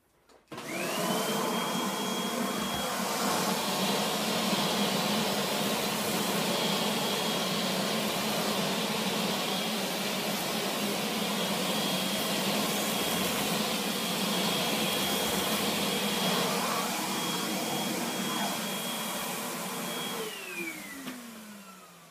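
A vacuum cleaner switches on, roars with a steady high whine for about twenty seconds, then powers down and winds off.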